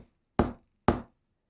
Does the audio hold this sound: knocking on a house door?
yes